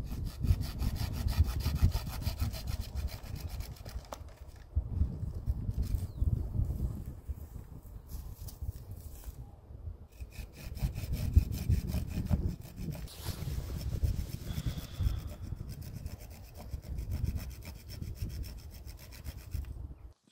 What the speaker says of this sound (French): La plus grande, je vais de nouveau prendre la scie.